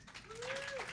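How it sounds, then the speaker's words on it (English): Audience clapping after a spoken performance, a faint, soft wash of scattered hands heard from a distance, with a brief thin whistling tone passing through. "You don't have to clap for that."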